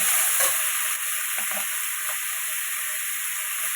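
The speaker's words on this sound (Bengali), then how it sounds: "তাই আগে এটা হলুদ দিয়ে তেলে নেবো" Small crabs fry in hot oil with turmeric, giving a steady, loud, close sizzle and hiss that runs throughout, with faint stirring taps underneath and no talking.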